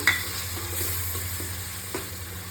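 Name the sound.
tomato paste added to frying chicken gravy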